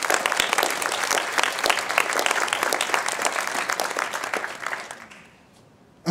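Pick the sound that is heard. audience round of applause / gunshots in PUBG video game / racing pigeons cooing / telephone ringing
audience round of applause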